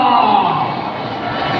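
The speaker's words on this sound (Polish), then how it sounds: "Dajcie mu jakieś brawa!" Crowd noise at a FIM World Championship SuperEnduro race in an indoor arena in Kraków, a broad sustained roar of cheering spectators with a commentator talking over it throughout.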